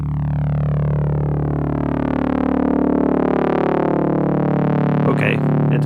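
Lightsaber-style synth pad from Ableton Drift, pushed through a saturator with light drive and soft clipping, holds one loud, sustained harmonic tone with slowly sweeping overtones, then a burst of crackly distortion near the end.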